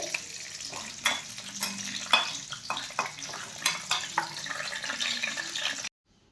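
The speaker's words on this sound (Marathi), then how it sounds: "यामध्ये आपण बदाम थोडेसे तळून घेऊयात" Almonds fry in oil in a pan for corn shira, giving a steady close sizzle broken by spoon scrapes and light clinks against the pan, before the sound cuts off abruptly near the end.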